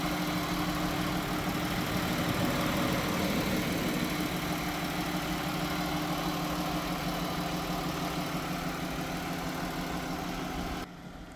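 A 2018 Ram ProMaster 2500 high-roof cargo van engine idles steadily with a low, even rumble and faint mechanical vibration, continuous throughout with no talking.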